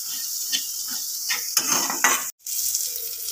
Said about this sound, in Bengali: সব মশলা 2 মিনিট মতন ভাজার পরে ধনে জিরে আস্তে আস্তে টিপ টিপ করে ফুটতে শুরু করছে